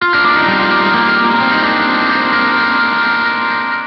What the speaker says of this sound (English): then send it through this plexi amp style distortion